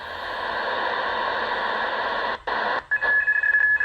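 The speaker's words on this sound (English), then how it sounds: "there's some good teletype, good signal." A teletype signal picked up during a night-time shortwave band scan between 6000 and 7000 kHz is a steady, loud data tone over static. It breaks off briefly near the end and then returns with a sharper pitched tone.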